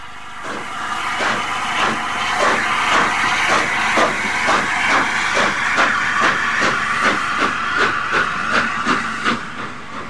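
LNER Peppercorn A2 class steam locomotive Blue Peter running, loud rhythmic chuffing beats repeating at a steady pace over continuous hissing steam, close and strong throughout.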